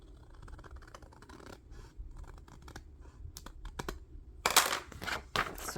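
Scissors cutting through material for a base, a series of crisp snips and scraping slices, sparse at first and then sharper and louder toward the end.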